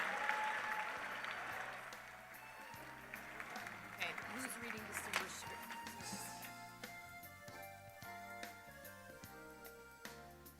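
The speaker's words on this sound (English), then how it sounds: "Please give this year's Blue and Gold recipient another round of applause." An audience at a state FFA leadership conference session gives a round of applause, a dense wash of clapping from a large crowd that fades as music plays underneath.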